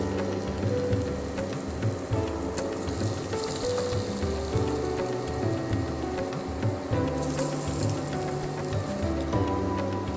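A peanut mixture deep-fries in hot oil for a Kerala-style crispy snack, giving a continuous bubbling sizzle with scattered pops and crackles at moderate volume, close by.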